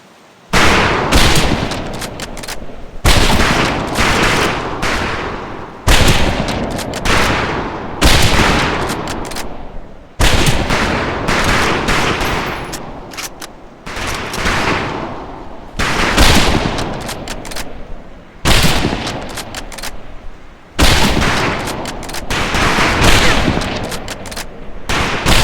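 Bursts of rifle fire ring out on a training-camp shooting range in the World War II game Medal of Honor Pacific Assault, arriving as repeated loud volleys a few seconds apart, each pausing briefly before the next.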